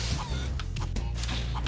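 Chickens in Spyro the Dragon on the PS1, with short, honking clucks repeating over a dense, loud game background.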